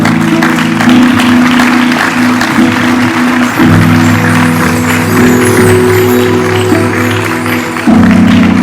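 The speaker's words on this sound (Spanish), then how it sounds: "Un fuerte aplauso a Él." A congregation applauds during a church worship service. The clapping is fairly loud and continuous, with sustained music tones playing underneath.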